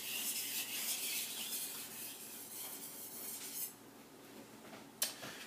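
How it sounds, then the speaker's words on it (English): A knife's steel edge rubs back and forth on a whetstone, giving a steady, close, gritty scraping that fades near the end, followed by one sharp tap. "Once you get muscle memory from sharpening, you can pretty much keep that angle consistent."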